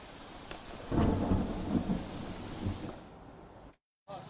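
Heavy monsoon rain pours during flooding in Surat, a thick, steady roar with a deep rumble of thunder rolling through the middle before a brief cut to silence.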